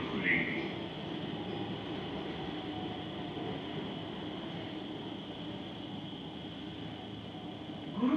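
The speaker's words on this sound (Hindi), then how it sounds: "चलिए अभी फिलहाल मेट्रो देखिए" A Kanpur metro train runs along the line with a steady, even rumble and hiss heard from inside the car, continuous throughout with no talk.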